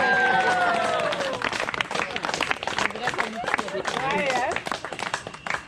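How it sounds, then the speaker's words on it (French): At a party, guests break into applause, a crowd of hands clapping unevenly while people talk and cheer loudly over it, the clapping thinning and swelling again. "Chers invités, applaudissez."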